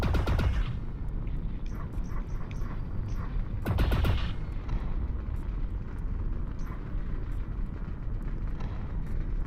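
Gunfire in the Lone Echo 2 game comes as two bursts of rapid shots, one at the start and one near four seconds. A steady low rumble runs underneath throughout.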